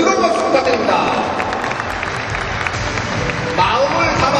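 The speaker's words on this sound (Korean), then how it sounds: "여러분, 뜨거운 박수 부탁드립니다." A large crowd applauds steadily throughout at a send-off ceremony for the Guangzhou Asian Games national team, a dense wash of clapping that swells slightly near the end.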